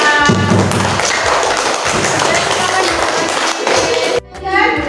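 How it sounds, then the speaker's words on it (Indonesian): A class of primary school pupils claps for a group of classmates, a dense burst of hand claps and thumps from the room that stops abruptly near the end, with children's voices mixed in. "tepuk tangan dulu untuk kelompok 4"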